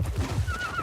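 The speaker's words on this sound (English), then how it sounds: "So the horses are scared of something." A horse in the film Nope lets out a brief, shrill whinny over low rumbling background sound, heard at a moderate distance.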